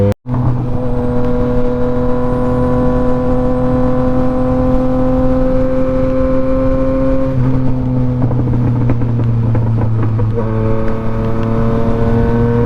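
A car takes off in third gear with a loud, steady engine drone close by, its pitch holding and then shifting a few times as it pulls away, with no talk over it.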